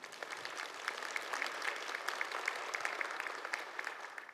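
An audience applauds at a regional forum, dense steady clapping from many hands at moderate distance, continuous throughout.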